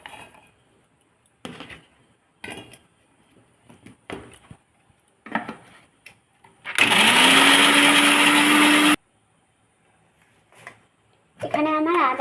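A kitchen blender grinds garlic, ginger and green chillies into a paste in one loud, steady whir of about two seconds that winds up as it starts. Someone talks in short bursts before and after.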